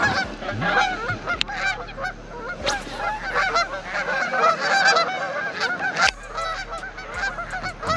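A flock of geese honking repeatedly at a lake during goose season, many overlapping calls near and far in a continuous noisy chorus with no talk.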